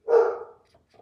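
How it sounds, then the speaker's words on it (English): A single short, fairly loud bark from a dog in a home with three dogs, standing alone with near silence after it. "Out of all three dogs, why are you the one doing all the barking?"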